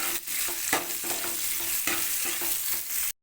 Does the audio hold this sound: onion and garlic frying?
yes